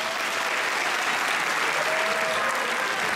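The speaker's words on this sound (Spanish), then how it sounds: "dar las gracias al señor Adriano Baila, pido un fuerte aplauso para él." Sustained audience applause fills a live show, a dense, steady roar of clapping from a large crowd that runs unbroken and loud from start to finish.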